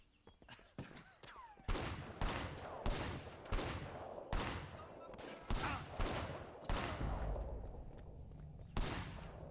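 Pistol gunfire in the video game Sleeping Dogs: a rapid series of sharp, loud shots cracks out at irregular intervals, with a few fainter pops in between.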